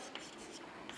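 Pen writing by hand on paper while an accountancy practical answer is filled in, a faint, soft scratching and rubbing throughout with a couple of slightly sharper strokes, very quiet and close.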